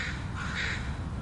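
Several black crows cawing, a steady harsh calling that carries on throughout at moderate distance with no one speaking.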